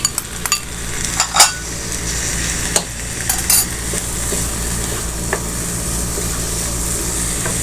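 Peas and sweet corn fry with eggs in a pan, stirred with a utensil that scrapes and clinks against the metal in irregular bursts over a constant sizzle, close up and without talk.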